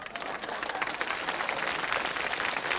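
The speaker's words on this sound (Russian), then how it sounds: "Аплодисменты." Studio audience applauding on a 1995 Russian television word game show, a steady dense wash of clapping that holds at an even level throughout without pauses.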